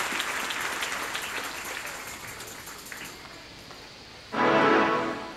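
A church congregation applauding, a broad clapping that fades across the first seconds, then a fresh loud burst near the end, sustained by a crowd indoors.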